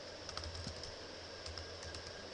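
Keys clicking in short irregular bursts on a computer keyboard, moderately close and alone, with a low steady hum underneath throughout.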